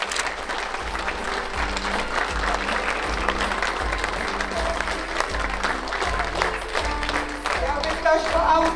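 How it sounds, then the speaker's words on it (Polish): A theatre audience applauds after a children's performance of Snow White, with continuous, full clapping from many hands layered over a pulsing, rhythmic musical beat. "Wielkie brawa, dziękujemy pani Ulko za kolejny spektakl."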